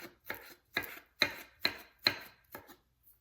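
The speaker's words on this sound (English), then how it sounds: "I might mince this up a little bit more too." A kitchen knife minces garlic on a cutting board in six distinct close chops, spaced about half a second apart, each a crisp thud-and-scrape, with silence between them and no talking.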